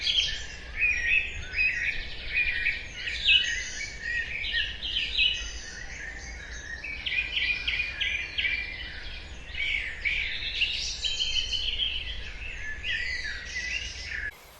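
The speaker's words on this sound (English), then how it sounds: "spoke about the dawn chorus, spoke about one or two other birds" A dense springtime dawn chorus of many wild birds singing and chirping at once, steady and overlapping throughout, with faint low background rumble.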